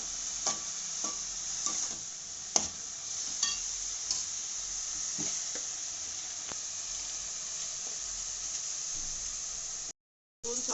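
Onions frying in a pan with turmeric and a little salt, a steady sizzle with occasional stirring clicks and scrapes, close and fairly quiet, no talk.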